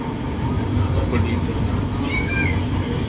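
A light rail train rumbles steadily nearby, a continuous low roar with faint squeals above, lasting the whole stretch.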